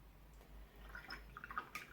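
A watercolour paintbrush swished in a jar of water, faint soft drips and small splashy clinks that grow busier toward the end over a low hum.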